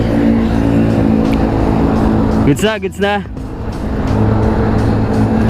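Hero Xoom 110 scooter ridden at midnight on a road from Eastwood City toward Marilaque, a steady close engine hum with wind noise, a rider speaking briefly over it midway.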